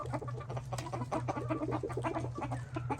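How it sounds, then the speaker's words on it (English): A rooster makes low, rapid clucking calls in a continuous chattering stream, close by, over a steady low hum. "He's calling the hens over."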